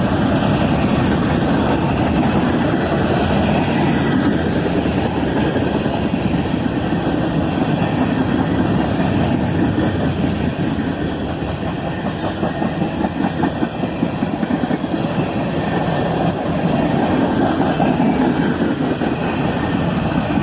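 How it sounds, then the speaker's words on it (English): A long freight train of covered hoppers with a distributed power unit rolls steadily past close by, wheels rumbling and clacking over the rails without a break, with no voices. "This train's also running with a DPU unit."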